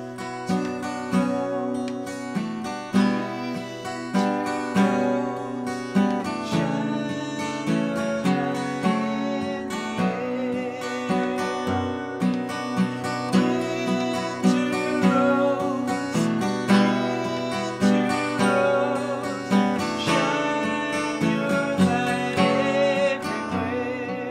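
Guitar plays a song in a steady, gently picked rhythm of chords and arpeggiated notes, clear and close, with no voices.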